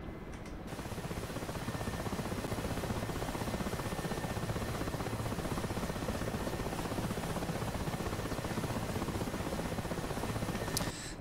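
A Mi-8 helicopter in the combat flight game DCS runs with a dense, steady rotor and turbine roar that fills the whole stretch evenly, continuous and unchanging, with no voices.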